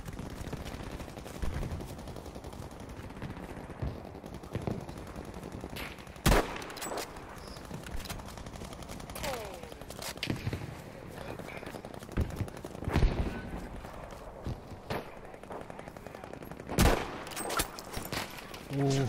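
Gunfire in the Battlefield V video game: scattered sharp shots and short bursts over nineteen seconds, some loud and near, others fainter, with a steady background of battle noise.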